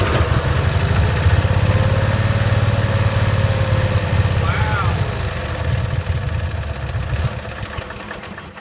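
A 1965 Cushman Truckster engine, run again after sitting over a year, chugs loudly and steadily at close range with a rough, knocking idle, and a voice talks briefly over it.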